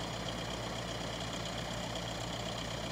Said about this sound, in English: Here, I'll start up the engine.